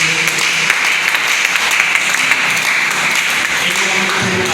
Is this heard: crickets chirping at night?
no